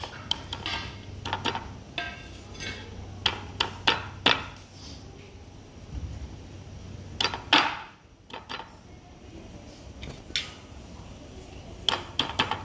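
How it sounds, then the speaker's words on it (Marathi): Three or four garlic cloves are crushed for a tempering while cooking a wild leafy vegetable, taakla, giving repeated sharp pounding knocks in irregular bursts, close and moderately loud, with clattering utensils in between. "लसणाच्या 3-4 पाकळ्या आपण आता ठेचून घेणार आहोत"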